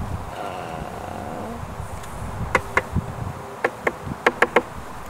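Honeybees in a beehive, a steady close buzzing drone with a cluster of sharp clicks or taps toward the end.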